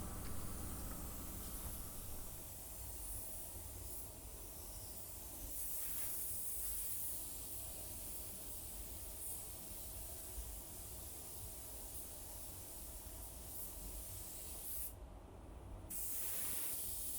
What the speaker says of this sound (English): I'll always hit it with the effect coat here and make sure we're doing everything by the book